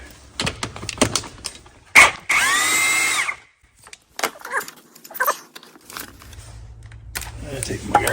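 A short, steady power-tool whir of roughly a second works loose the engine mounting bolts on a 1979–81 Honda XL500 motorcycle, set among scattered metallic clanks and knocks of close-up garage work.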